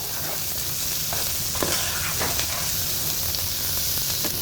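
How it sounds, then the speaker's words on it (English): Mushrooms frying in a pan, giving a steady, bright sizzle that holds throughout, with occasional soft crackles and stirring scrapes on top. "I have here the mushrooms. We'll cook these until they're tender."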